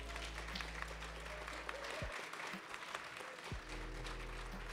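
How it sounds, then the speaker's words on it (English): A crowd at a Shadowverse: Evolve card game tournament finals claps steadily throughout, dense applause with a low hum that briefly drops out in the middle. "let's give each other a big round of applause"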